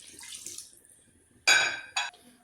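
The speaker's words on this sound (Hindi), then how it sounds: "अब इसमें ये 1 कप पानी डाल रही हूँ" A cup of water is poured into a pot of chicken in a kitchen, giving a short splashing gush and a second brief splash over a quiet background.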